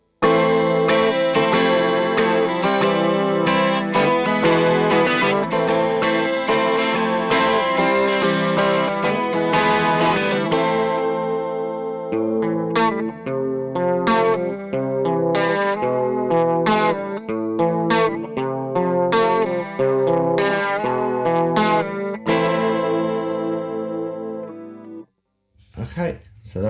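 Electric guitar played through a Behringer chorus pedal, a shimmering, wavering tone that moves from sustained strummed chords into rapid picked notes with a distorted edge, loud and close, ending in a brief pause and a final chord.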